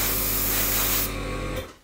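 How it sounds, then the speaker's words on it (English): An airbrush hisses paint onto paper flower petals in a close, steady spray. The spray cuts out abruptly about a second in, and a softer hiss lingers briefly after it. "I actually start over here on the paper, and then I kind of walk into the spray just to touch those end petals"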